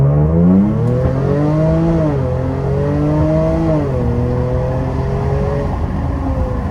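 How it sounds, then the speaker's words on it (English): Supercharged Jaguar F-Pace 35T R-Sport SUV accelerating hard on a straight road, its exhaust rising in pitch through several gear changes, loud and continuous from inside the cabin with the windows down. "I will roll down the windows so you guys get a better idea of the exhaust, and we will test it out."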